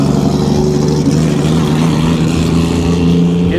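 A Toyota Supra race car engine drones loudly and steadily at an SCCA National Championship race at Road America, close and continuous.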